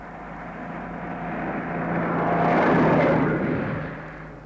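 A lorry passes along a road beside a pavement, a broad engine and tyre rumble swelling from a distance to a loud peak near the middle, then easing away, with no talk.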